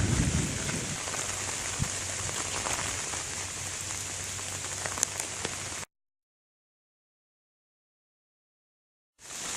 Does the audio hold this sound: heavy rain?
yes